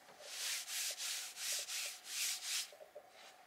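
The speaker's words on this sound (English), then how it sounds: "That's the sound of silk." Silk fabric rubbed and swished in repeated strokes, about seven soft bursts of hissy friction noise in a steady rhythm, close and fairly quiet with no voices.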